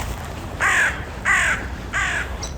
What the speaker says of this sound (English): I find crows and rooks at graveyards quite sinister, quite disconcerting.